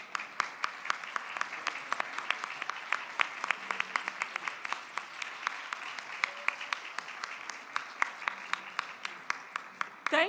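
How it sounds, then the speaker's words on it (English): A small audience at a university student leadership awards ceremony claps in a sparse, rhythmic way, distinct individual claps repeating steadily over a soft background, fairly quiet and a little distant. "would you please stand for a moment so that we can applaud your great leadership as well?"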